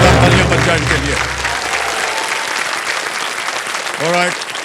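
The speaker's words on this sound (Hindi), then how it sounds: "देवियों एक बार फिर से जोरदार तालियां बज जाए इनके लिए।" A studio audience on a televised quiz show breaks into loud, dense applause that holds steady, with music fading under it at the start and a brief sung or tonal cue near the end.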